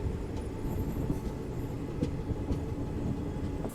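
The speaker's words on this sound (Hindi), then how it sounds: "ये बसई रेलवे स्टेशन है और यहाँ फाइनली लूप हो चुके हैं हम।" A Shreedham Express train rolls onto the loop line at Basai railway station, giving a steady rumble of carriages with faint clicks and brief squeaks from the wheels, heard from on board at a moderate level.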